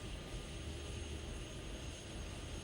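A Tornado military jet roars in a continuous broadband rush, steady and moderately loud throughout, with no voices.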